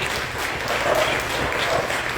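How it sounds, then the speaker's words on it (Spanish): A church congregation bursts into brief, dense applause, a short burst of clapping from many hands filling the room. "dé un aplauso poderoso a Jesucristo"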